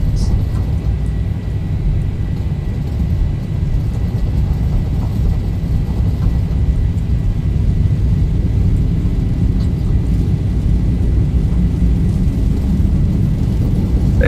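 Jet engines spool at takeoff thrust in a Zibo mod flight simulator departing Edinburgh, a loud, steady, broadband roar and rumble that holds unbroken throughout.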